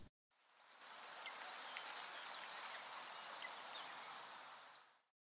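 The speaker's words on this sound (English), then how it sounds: "Farther upstream, we can hear several more eastern kingbirds." Several eastern kingbirds call along a stream, sharp high chirps recurring every second or so over a soft insect-like hiss, fairly faint and distant.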